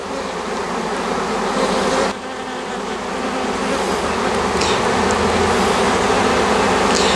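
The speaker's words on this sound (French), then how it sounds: "Là, elles sont en train de former la grappe autour de la reine." A honeybee swarm clusters around its queen on the branch of a young apple tree, producing a loud, dense, unbroken buzz that fills the air throughout.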